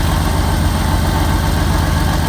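Loud, close engine idling of a 1986 Pontiac Fiero SE after an exhaust leak at the O2 sensor was fixed, with a steady low throbbing pulse and smooth, even rhythm, no voices.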